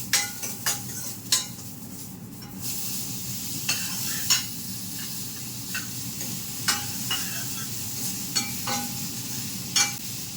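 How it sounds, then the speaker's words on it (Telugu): Cut pumpkin pieces tipped into a sizzling tempering with curry leaves and stirred, a low steady fry under repeated sharp clanks of a ladle against the pan, no speech. "ఈ గుమ్మడి ముక్కలు కట్ చేసుకుని ఉన్నాయి కదా, అది ఇందులో వేసేద్దామండి."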